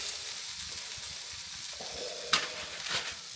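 Top sirloin picanha sears in a hot pan with a steady close sizzle and crackle, plus a couple of brief louder spits.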